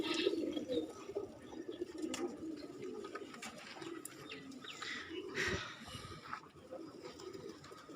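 Domestic pigeons, including crested golden birds nesting on eggs in a loft room, give soft low cooing throughout, close and steady, with occasional faint rustles and light chirps.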